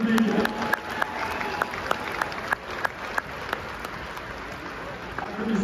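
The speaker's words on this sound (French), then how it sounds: "Applaudissements pour Sébastien Bourdin." Audience applause ringing out at a rugby post-match event for Lyon OU and La Rochelle staff, steady dense clapping from a crowd with a few sharper claps standing out, moderately loud and continuous throughout.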